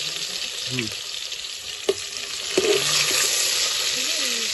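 Ginger paste sizzles in hot oil in a pot over a village wood fire, a loud continuous frying hiss with a few sharp stirring clanks and scrapes of the spoon throughout.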